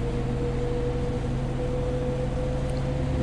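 Bus engine in the OMSI 2 bus simulator game, driving toward Sonneburg in the rain: a steady, loud droning hum with constant low tones, unbroken and with no talking.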